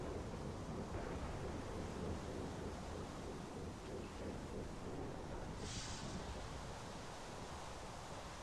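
Rain and rolling thunder in modded Minecraft, a faint, continuous wash of rainfall with low rumbling and no speech.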